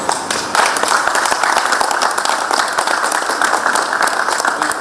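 Applause from an audience at a ceremony, a dense, continuous wash of many hands clapping, loud and steady throughout.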